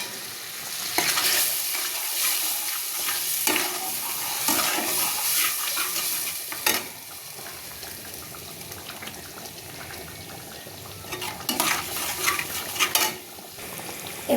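Ginger, garlic and onion paste frying in a pan for egg curry, stirred with a spatula over a continuous close sizzle, with brief splashes of water and scraping strokes.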